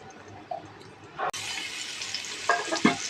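Garlic frying in a pan of ghee with two spoons of soybean oil for chicken vegetable fried rice, a sudden loud sizzle bursting in partway through and crackling steadily, with brief clatter near the end.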